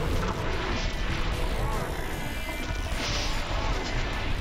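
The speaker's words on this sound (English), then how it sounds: "these explosions aren't quite as large as I'd like from rockets" Rocket explosions in the top-down shooter Crimsonland form a dense, continuous barrage of crashing blasts and heavy rumble over several seconds, loud and close with no breaks.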